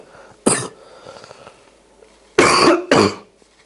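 Three loud, sharp coughs from one nearby person: one early, then two close together after a pause, with quiet room noise between.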